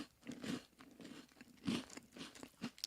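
Someone bites and chews a Coffee Crisp milk chocolate wafer bar, close crisp crunches in an uneven rhythm, quiet overall.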